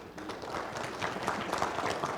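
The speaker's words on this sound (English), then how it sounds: "Let's hear a little applause for them." A school audience claps for a visiting school in sustained, fairly soft applause, a dense patter of many hands continuing at a steady level.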